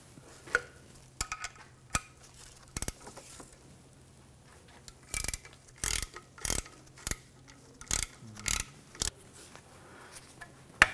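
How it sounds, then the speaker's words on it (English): A ratchet fitted with a 6mm hex socket backs out the shield screws under an Audi A4 Quattro near the rear differential, giving several short bursts of close, rapid metallic clicking separated by pauses, with no talking. "Take these screws out."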